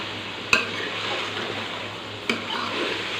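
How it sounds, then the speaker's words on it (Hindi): Potatoes fry with softened tomatoes in a pan for aloo chicken, a soft steady sizzle with two sharp spoon knocks against the pan, and no talking. "अभी हम अपने आलू भी इसमें ऐड करके तो इसको 5-6 मिनट के लिए भूनेंगे"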